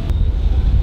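Strong wind buffets the microphone at a westernmost seaside point, a loud, close, low rumbling gust with no voices during the brief moment.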